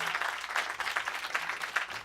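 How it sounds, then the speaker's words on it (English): Brief applause from a small studio audience at a lounge band session, a continuous wash of clapping at moderate, somewhat distant level with no break. "How about a round of applause?"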